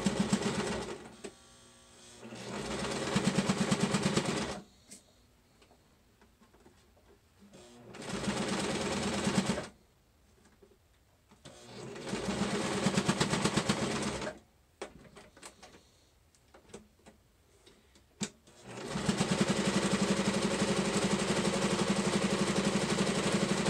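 A sewing machine stitches over the thick pleats of a fabric face mask in three loud, steady bursts of rapid whirring, separated by quiet pauses with faint handling noises.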